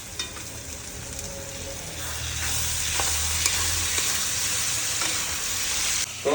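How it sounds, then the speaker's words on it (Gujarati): Vegetable curry sizzles and frying in a pan as roasted turmeric is stirred in, with a steady hiss and occasional scraping stir strokes close up, getting louder toward the end. "નાખી દેવો આપણે શેકેલી હળદર બરાબર હલાઈ દેવું"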